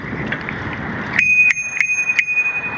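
Handlebar-mounted bicycle bell struck four times in quick succession, bright clear pings ringing out loud and close, each ending before the next strike.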